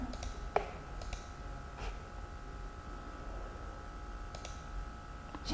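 Mouse clicks sound faintly while someone confirms a form on a computer, a few soft sparse ticks over a quiet background hum.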